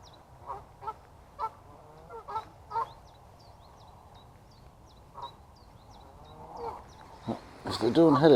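Scattered honks ring out at a distance, with thin chirps overhead, then a loud, close burst of honking at the end.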